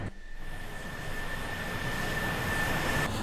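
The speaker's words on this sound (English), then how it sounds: "Deploying flaps." Aircraft noise in a flight simulator video game as flaps deploy, heard as a steady broad engine roar with a thin constant whine that builds slightly.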